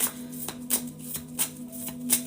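Tarot cards are shuffled by hand in soft, rhythmic riffles and taps, close and quiet, with a faint steady hum underneath.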